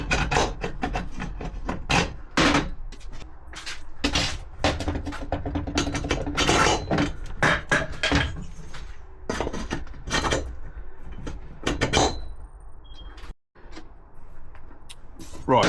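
Wheels are fitted onto a homemade motorcycle trolley, with irregular clunks, knocks and metallic taps of parts and tools handled close by, scattered through the work and separated by brief gaps.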